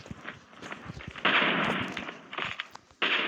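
Bursts of gunfire in the Call of Duty video game, a rapid series of sharp shots followed by loud sustained blasts, fairly close and punchy, with faint voices in the background.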